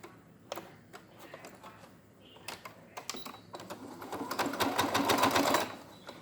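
Sewing machine tacking a fabric face mask seam, close and clear, with a few short stitching bursts and handling clicks before a longer steady run of stitching.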